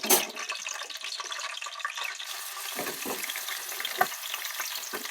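Green chillies fry in hot oil with onion and tomato paste for Andhra fish curry, giving a steady, close sizzle with light stirring and a small clink, without any talk.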